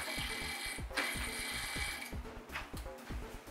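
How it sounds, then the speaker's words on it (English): Small PC case fan blades ticking against a cable inside a Lian Li O11 Dynamic mirrored-edition case, a rapid mechanical rattle that repeats in fast bursts, close and steady with no talk. "There is definitely a very unhappy rattling fan sound."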